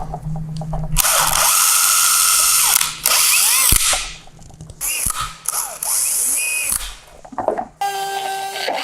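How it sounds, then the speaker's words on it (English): A power drill bores holes in a Ford F-150 bumper cover on a bench, loud whining bursts of a few seconds each with brief pauses and ratcheting chatter between them. "So now I'll finish up these drill holes, make them nice and clean"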